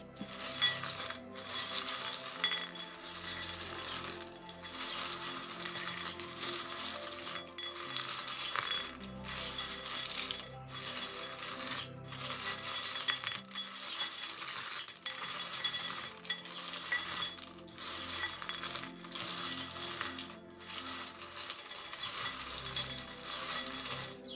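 Small charms are cast onto a surface for a spiritual reading, giving scattered metallic clinks and coin-like drops and rattles. They sound close and fairly quiet over a steady background hiss, with only brief sparse voice.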